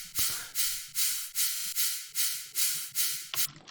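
Sultan cymbal samples in a dubstep production, a row of about eight evenly spaced bright, hissy crashes, each swelling and decaying before the next, then an abrupt stop.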